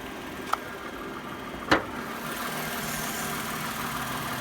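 A 6-cylinder Toyota Avalon engine idles with a steady low hum, interrupted by two brief clicks or knocks near the start.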